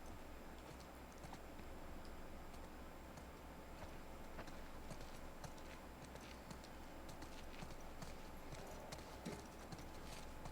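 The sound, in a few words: horse hooves clip-clopping in video game The Last of Us Part II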